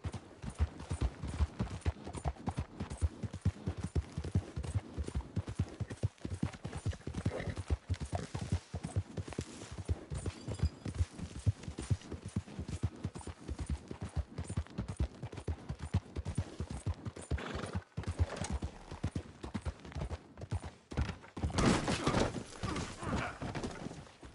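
Horse hooves gallop steadily in Red Dead Redemption 2, a rapid rhythmic clip-clop that stays close and even for over twenty seconds, with occasional tack jingles and a louder burst near the end.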